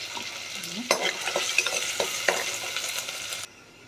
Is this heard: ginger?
yes